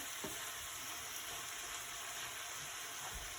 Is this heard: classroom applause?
no